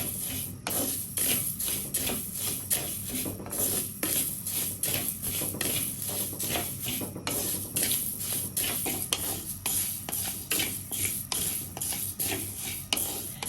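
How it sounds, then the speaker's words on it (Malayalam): Coriander seeds rattle and scrape against a pan over a low flame in quick, steady strokes of dry-roasting, continuing without pause and fairly close. "നമുക്കിത് നന്നായിട്ടൊന്ന് ഡ്രൈ റോസ്റ്റ് ചെയ്ത് എടുക്കണം"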